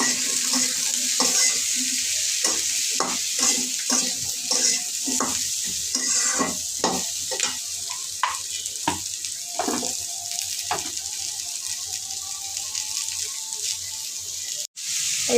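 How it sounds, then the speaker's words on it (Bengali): Papaya pieces frying in oil with turmeric and salt hiss in a steady, close sizzle, broken by repeated scraping stir strokes of a utensil against the pan. "এটা হচ্ছে পেঁপে, হলুদ দিয়ে আমি এটা ভেজে নেব"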